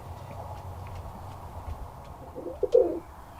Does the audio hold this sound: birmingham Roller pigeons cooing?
yes